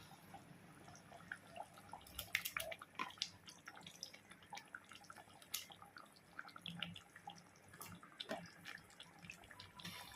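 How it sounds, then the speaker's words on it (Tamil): Water boils in a cooking pot while prawns are being cooked, giving quiet, irregular bubbling with small pops and crackles scattered close by and no voices. "இப்போது தண்ணி கொஞ்சம் ஊற்றிருக்கேன், நல்லா கொதிக்குது."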